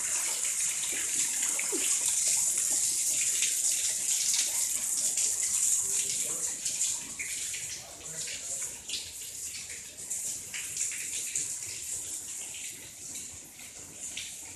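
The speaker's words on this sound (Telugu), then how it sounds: "అసెంబ్లీలో ప్రతిపక్ష నేత జగన్ ఛాంబర్లో సీలింగ్ నుంచి వర్షపు నీళ్లు కారాయి" Steady stream of rainwater leaking from the ceiling of the opposition leader's chamber in the Andhra Pradesh Assembly building, a continuous hissing patter that eases slightly later on.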